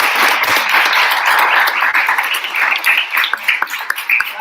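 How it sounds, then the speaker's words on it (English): An audience gives a round of applause at a live university session, a steady wash of clapping at moderate distance lasting throughout with a few sharper individual claps toward the end. "And an round of applause to these"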